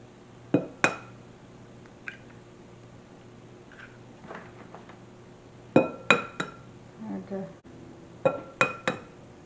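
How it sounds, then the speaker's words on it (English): Five eggs cracked into a bowl for a keto chocolate glaze donut batter, heard as a run of sharp glassy clinks and taps in clusters, close and fairly loud, with quieter shuffling between them. "So we're going to put in the 5 eggs"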